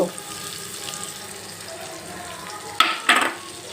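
Amla (Indian gooseberry) pieces fry in oil with onions, a soft steady sizzle, followed near the end by a couple of brief stirring or clattering sounds.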